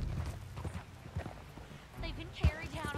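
Horse hooves clip-clopping at a walk in Red Dead Redemption 2, soft repeated hoof falls close by, with game characters talking over them and a louder thump near the end.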